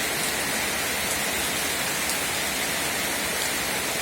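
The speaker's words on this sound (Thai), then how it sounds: "ฝนตกหนักนะครับ" Heavy rain pouring before dawn in a village in Khlong Lan district, Kamphaeng Phet, Thailand, as a dense, constant hiss of downpour with no pauses or voices.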